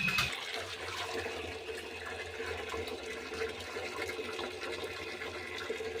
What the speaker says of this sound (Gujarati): મિત્રો હવે પાણી ભરી લઈએ.